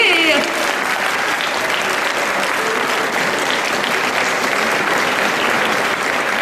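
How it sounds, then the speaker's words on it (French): A crowd applauds a cosplayer at a cosplay parade at the Japanantes 2012 convention, a dense, even wash of clapping that holds steady for the whole stretch, with a faint voice at the very start. "Vous pouvez l'applaudir aussi et l'encourager."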